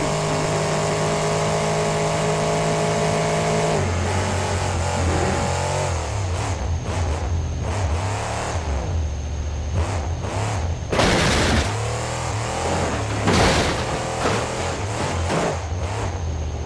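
A monster truck in a Monster Jam map in BeamNG Drive hums at a steady drone, then revs hard in rising, uneven bursts, with sharp, loud crash impacts around the middle of the stretch.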